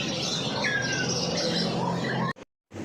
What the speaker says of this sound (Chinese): 这个鸟店的老板就帮我喂它吃这个蟋蟀